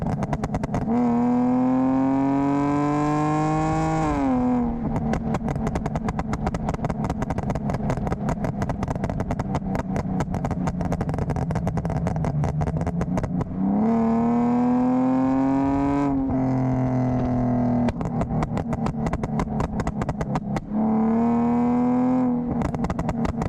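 A tuned BMW E46 with a stage 3 tune revs hard toward redline in long sustained pulls, rising engine tone alternating with rapid crackling stretches off throttle, loud and close throughout with no talking.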